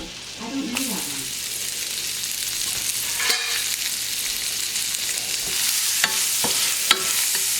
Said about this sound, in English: And next I'm going to add my shallots.